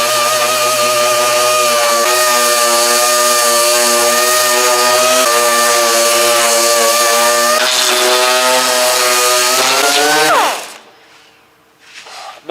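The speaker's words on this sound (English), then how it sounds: "I'm getting rid of the deep scratches and all of the orange peel using my DA sander." A dual-action sander works primer on a car body, knocking down deep scratches and orange peel with a loud, steady whine that runs for about ten seconds before spinning down and stopping.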